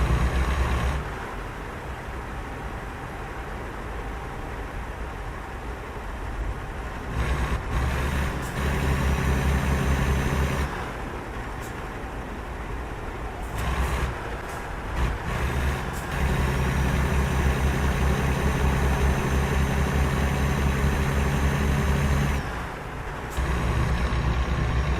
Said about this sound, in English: Love to hear that transmission shifting, downshifting, upshifting.